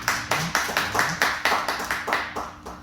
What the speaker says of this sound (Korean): 우리 감사의 박수 올려드리겠습니다.